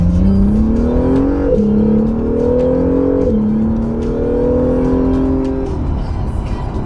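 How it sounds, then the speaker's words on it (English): An NSX engine revs up in steady rising pulls, pitch climbing then dropping, with brief whooshing turbo blow-off valve releases between surges, loud and close. "The blow-off valve sounds really good too."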